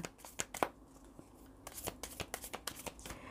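Cards shuffled for a fortune-telling reading, a series of quick, crisp riffling bursts at close range, with a brief pause before the shuffling resumes in rapid flicks.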